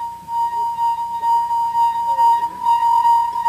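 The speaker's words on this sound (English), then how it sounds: "if you rub a wet finger on top of a glass with a stem, it will make music" A wet fingertip circles the rim of a stemmed glass, drawing out a steady, loud, pure ringing tone that holds throughout while quiet voices murmur faintly underneath.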